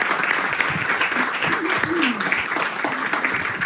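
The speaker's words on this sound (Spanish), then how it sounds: "Aplausos para Roger." Audience applause at a book presentation on unlocking personality, steady clapping filling the room for nearly four seconds with a few voices mixed in.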